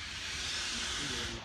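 Loud, close hiss of steam venting from a steam train, a continuous broadband rush lasting the whole moment with no break.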